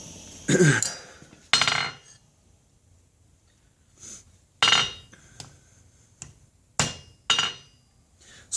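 A 5.5 pound rounding hammer strikes a silver ring being forged, several sharp metallic blows in an irregular rhythm, close and loud with ringing decays and quiet gaps between.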